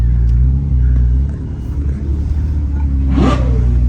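A Ferrari sports car on a run in Cape Town gives a loud, close engine rumble that swells into a sharp rising rev near the end.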